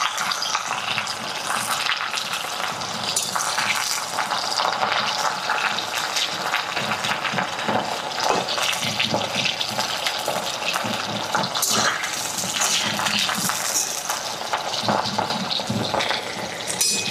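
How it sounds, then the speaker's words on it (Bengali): Raw jackfruit pieces fry lightly in a hot wok, giving a continuous crackling, sizzling hiss that stays steady and close throughout with no talking. "এদিকে কড়াইটা গরম হয়ে গেছে, দিয়ে দিয়ে এখন কাঁঠাল হালকা হালকা ভাজে নিব"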